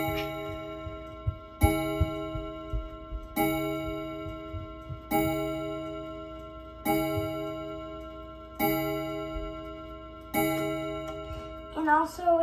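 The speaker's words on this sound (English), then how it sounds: "And my other chiming clock is my grandfather clock." A grandfather clock strikes a series of seven evenly spaced, ringing chime tones, each decaying slowly into the next, loud and close, with a voice starting to speak at the end.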